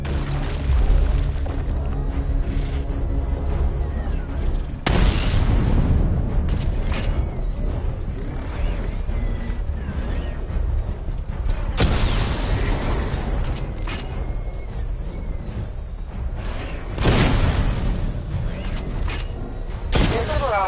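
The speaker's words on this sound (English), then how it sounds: "Destroy targets to charge up weapon energy and activate missile barrage." Missile barrage explosions in Batman Arkham Knight, heavy booming blasts and rumbling impacts sustained throughout, with several sharp surges of louder detonations.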